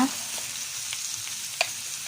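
Pata paksiw being stirred in a cooking pot: a steady bubbling simmer with faint scraping and a few soft knocks of the utensil, close by and without speech.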